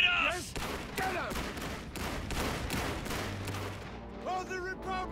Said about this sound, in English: Quickly! Open fire! Open fire! Shoot them. They're shooting at us!